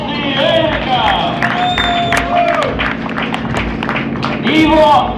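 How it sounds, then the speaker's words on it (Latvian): A crowd at a drift event applauds driver Eriks Ulas, clapping and cheering over a loud announcer voice on the PA, with a burst of cheering swelling near the end. "Aplausi Erikam!"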